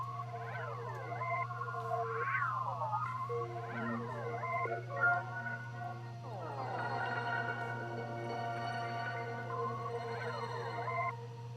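Pitched accent samples from a Sound Source kit, tuned in key in FL Studio, play as sweeping, warbling synth stabs in a repeating pattern over a steady low drone, moderately quiet with no voices.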